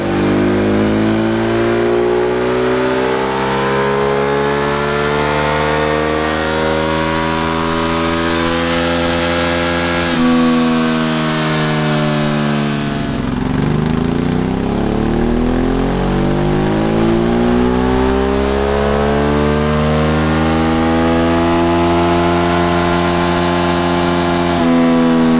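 A decatted, ECU-remapped Ducati motorcycle engine revs steadily and loudly for the full length, its pitch climbing, dipping near the middle, then rising again, close and continuous with no talk.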